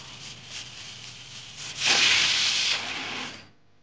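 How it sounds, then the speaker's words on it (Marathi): A pressure cooker whistles while vegetables for pav bhaji cook, a rising rush of hissing steam that swells for about a second before easing off, close and fairly loud. "तर कुकरच्या शिट्ट्या आता झालेल्या आहेत."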